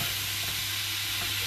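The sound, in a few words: salmon frying in a pan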